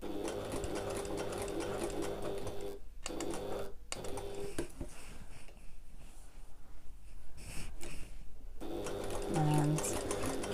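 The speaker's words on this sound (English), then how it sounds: "I'm just going to pivot and sew along this short end" A sewing machine runs steadily along the short end of a backpack, a continuous close whir broken by two brief stops as the fabric is pivoted.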